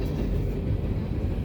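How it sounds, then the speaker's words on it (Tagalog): A train passing in Missouri gives a steady low rumble and rolling drone, heard from a moderate distance for a short stretch without voices. "Train in Missouri pala, not in Arkansas."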